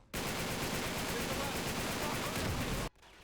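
Rapid gunfire from snipers and enemies in Uncharted 3: Drake's Deception rattles in a dense, continuous burst at steady loudness for about three seconds, then cuts off abruptly.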